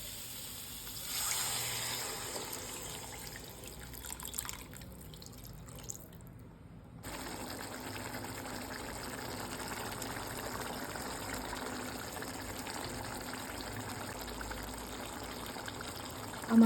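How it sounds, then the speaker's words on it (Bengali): Water poured into a pan of egg and potato curry, a steady trickling and splashing pour that runs for several seconds, then settles into a softer continuous wash. "আমি এখন জল দিয়ে দেবো।"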